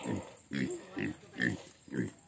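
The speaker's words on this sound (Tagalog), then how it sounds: "Yan, baboy." A pig grunts repeatedly in short, low bursts, about five grunts in a steady rhythm, close by on a farm.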